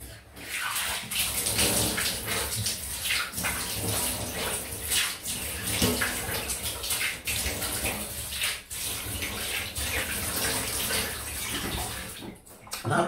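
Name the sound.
cold water rinse from tap after shaving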